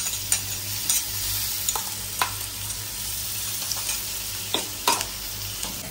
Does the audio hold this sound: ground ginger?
yes